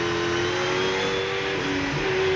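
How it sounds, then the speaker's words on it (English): Engine of a Holden Commodore V8 touring car in a race at Queensland Raceway, a loud sustained high-revving drone with steady pitch and a brief dip as it shifts, heard close up. "Mark Scape in the number 2 Mobile Holden Racing Team Commodore."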